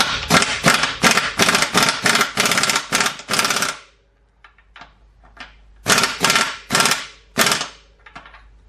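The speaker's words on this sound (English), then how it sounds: "I'm going to use my air gun, but I'm not gonna finalize my tightening with this" Air impact wrench tightening a bicycle crank housing: loud bursts of rapid rattling hammering in two runs with a quiet pause between, plus a few lighter short bursts.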